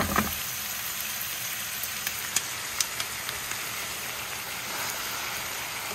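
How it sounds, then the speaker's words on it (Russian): Chopped onions fry in a separate pan over very high heat while beef goulash is being made. The sizzle is a constant, close hiss with a few sharp pops and spits, and no one speaks over it. "Все это отдельно обжариваем."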